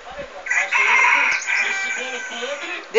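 A laying hen cackles and clucks in a repeated, fairly close run of calls, with people talking nearby.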